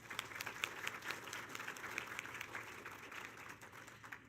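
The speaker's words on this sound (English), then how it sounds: "Let's give them a round of applause." An audience applauds event sponsors at a charity gathering: steady, dense clapping of many hands that holds for several seconds, fairly faint and distant, with no voices over it.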